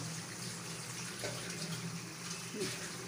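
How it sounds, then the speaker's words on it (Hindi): Lentils (dal) fry in hot oil until crisp for a namkeen dal chana snack. The sizzle is a soft, steady, hissing crackle that stays even throughout and sounds somewhat distant. "तेल जो है वो उसमें दाल जो है वो फ्राई हो रही है।"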